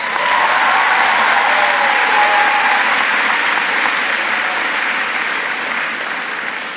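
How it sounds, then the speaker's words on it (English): A large audience at a high school graduation ceremony claps loudly and continuously for several seconds, a full dense wash of applause that slowly thins toward the end. "Mr. Pankratz, hold your applause."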